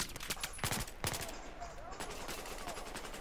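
Bursts of gunfire from the MX weapon in Battlefield 4, a few sharp shots early on followed by a steady rumble of battle noise and other distant gunshots.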